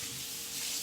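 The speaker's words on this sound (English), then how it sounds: "I'm rinsing off the immersion blender." Kitchen tap water runs over an immersion blender as it is rinsed, a short, steady broadband hiss lasting under a second.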